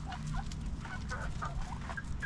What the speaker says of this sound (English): These guys with the really fluffy hairdos, those are all the Polish hens.